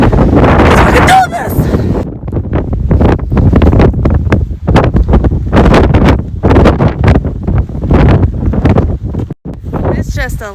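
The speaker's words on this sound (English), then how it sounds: "It's just a little windy." Strong wind buffets the microphone on an Appalachian Trail mountain path near tree line, a loud, constant roaring rumble with gusty surges throughout and no quiet gaps.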